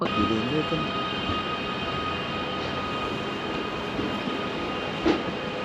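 The Glacier Express train rumbles steadily along at a slow pace through mountains, a continuous mechanical drone with faint rattles and a brief clank near the end.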